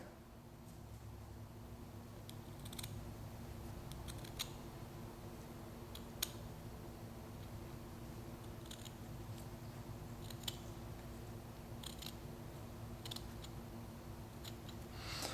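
Scissors snipping cotton balls into wicks for a Kayfun Lite vape coil build, a few sharp close snips spaced irregularly over a steady low hum.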